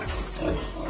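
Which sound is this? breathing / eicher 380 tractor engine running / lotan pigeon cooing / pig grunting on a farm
pig grunting on a farm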